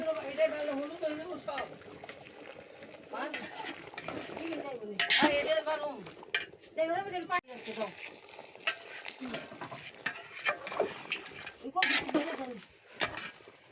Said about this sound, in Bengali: মাংসটা কষানো হচ্ছে মাংসতে ঝোল দিয়ে দিচ্ছি